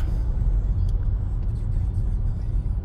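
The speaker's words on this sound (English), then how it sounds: "The traffic is backed up all the way for a mile and a half." Backed-up traffic at the San Ysidro border crossing at night rumbles steadily with car engines, a loud continuous low drone of idling and creeping vehicles nearby, with a few brief higher hisses like air brakes.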